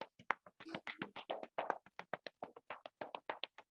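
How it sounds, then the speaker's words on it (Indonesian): Quick, crisp hand claps repeat in a steady train of about twenty-five, close and fairly quiet, during a kids' yoga session with no talking over them. "Tepuk, tepuk, tepuk."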